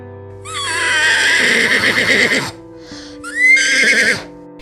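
A person imitates a horse's whinny twice, a long wavering neigh followed by a shorter one after a brief pause, loud and close.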